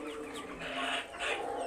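Hill chickens cluck close by at a farm, giving a few short bursts of clucking over a steady background hum.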